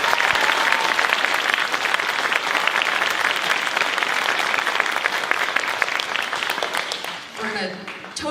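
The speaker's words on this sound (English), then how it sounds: "So please give them another round of applause." Sustained audience applause for a high school area honors band concert, loud dense clapping filling the hall for most of the stretch, then tapering off as a voice begins near the end.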